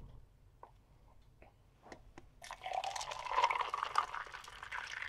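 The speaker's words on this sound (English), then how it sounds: "Oh, look at that pour." French vanilla coffee is poured into cups, a faint liquid stream that starts softly and swells into a steady gurgling pour after a few quiet ticks and clinks.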